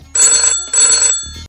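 Old 1930s telephone bell ringing, two loud metallic rings in quick succession with a brief gap, close and clear with nothing else heard.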